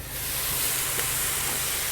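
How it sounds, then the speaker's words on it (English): A steak sandwich with cheese steams under a dome on a hot griddle, making a continuous close hiss and sizzle that rises quickly at the start and then holds steady, with no voices. "we're going to dome this, steam it and dome this and get these nice and cheesy"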